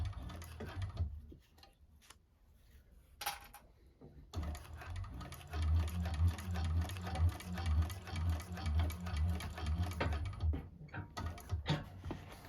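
A 1341 cylinder arm sewing machine with a needle positioner stitches a bag, giving a rapid mechanical whir in short runs with brief stops, then a longer steady burst of stitching.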